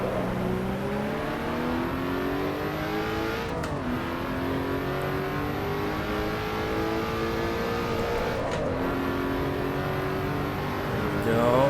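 A race car engine in the early-access Assetto Corsa Evo racing game revs and climbs steadily through the gears, with brief dips at shifts, loud and continuous from the cockpit view.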